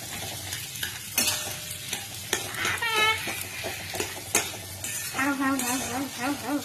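Potatoes stirred in a sizzling pan for aloo chokha, a spoon scraping and clinking against the pot in repeated strokes over steady frying hiss, with a voice and brief talk breaking in partway.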